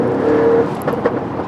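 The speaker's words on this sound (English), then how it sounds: "you can just hear the beefy V8 coming in" An Audi RS7 V8 engine accelerates with a deep, building roar heard from inside the car, steady and loud for a brief stretch with no talking.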